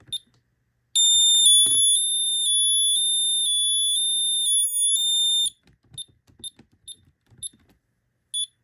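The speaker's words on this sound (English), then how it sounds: "Does get pretty loud. I like how it changes the alarm." An Ademco 6139 security keypad sounds its panic alarm, a loud, steady high-pitched electronic tone lasting about four seconds, followed by a few short beeps and light handling noises.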